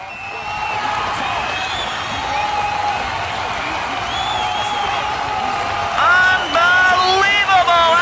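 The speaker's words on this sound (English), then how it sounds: "Listen to that crowd." A large arena crowd cheers and roars steadily at the EVO Japan fighting game finals after a knockout, the dense crowd noise loud and continuous with rising whoops and shouts toward the end.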